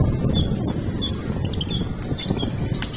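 African lovebirds in a breeder's aviary squawk and chirp in scattered short calls over a dense, noisy background, with the bird sounds faint and intermittent rather than prominent.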